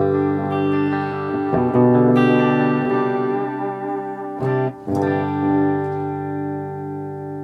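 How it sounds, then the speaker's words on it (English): Sustained electric guitar notes played through a Donner Yellow Fall 2 delay pedal, each phrase trailing into several repeating echoes, with a sharp break midway before the ringing tones resume, loud and alone. "I like it to repeat about 3 to 4 times. That's about how I like my delay setting right there."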